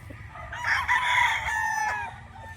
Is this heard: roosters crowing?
yes